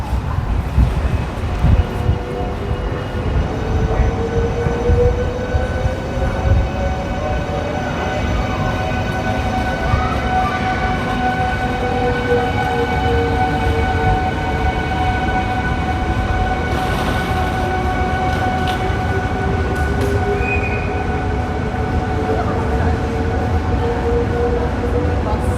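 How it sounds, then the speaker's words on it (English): A train departs a Belgian station bound for Brussels, its low steady rumble joined by rising and falling whining tones and a brief hiss, continuous and loud throughout. "we can see a train departing to Brussels"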